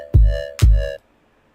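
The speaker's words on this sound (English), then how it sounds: "is a sine square wavetable with a formant shape" Two short, bright synth notes from a high-pitched sine-square wavetable oscillator with a formant shape, each with a punchy low thump, played close and loud, then silence.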